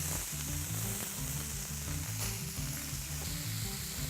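Food crackles and sizzles steadily as it goes into a very hot pan, a close, continuous frying hiss with no talking.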